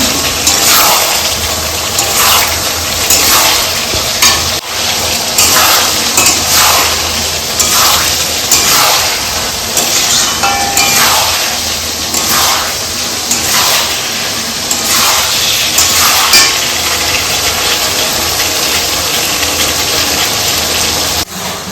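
Chilli chicken masala frying in oil in a pan, heard as a loud, continuous close sizzle with a wet, bubbling texture and faint recurring swells, with no speech.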